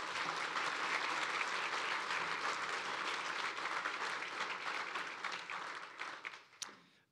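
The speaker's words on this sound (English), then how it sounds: "God bless you, and you deserve a round of applause." An indoor audience claps in a warm, dense round of applause that holds steady for several seconds, then thins out and fades away, with a few last scattered claps at the end.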